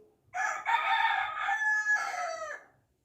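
A rooster crows once, a long loud drawn-out call that rises and trails off, clear and alone against a quiet background.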